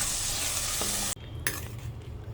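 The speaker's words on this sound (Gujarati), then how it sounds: "ગ્રેવી નાખીને વ્યવસ્થિત મિક્સ કરવાની છે" Gravy for chhole is stirred into a hot pan, a loud hissing sizzle that abruptly drops, followed by softer sizzling and a spoon scrape.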